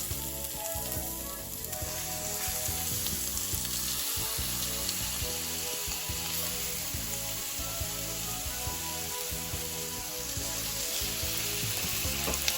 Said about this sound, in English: Next, I'm going to be adding the shrimp in to the oil.